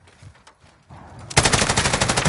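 Bruen MK9 light machine gun fire in Call of Duty Modern Warfare 3, quiet game noise first, then a sustained, loud, rapid burst of automatic shots to the end.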